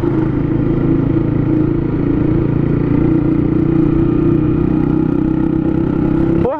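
Motorcycle engine with an open exhaust pipe running loud and close, a steady heavy rumble with slight revving throughout, and a brief spoken exclamation near the end.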